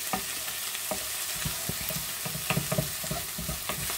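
Onions fry in butter, oil and a splash of wine in a pan, giving a continuous close sizzle broken by soft scraping and tapping as they are stirred.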